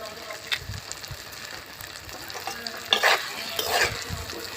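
Cracked eggs frying with cooked-down tomato, salt and turmeric in a pan, with a busy crackling sizzle and repeated scraping stirs that grow louder toward the end.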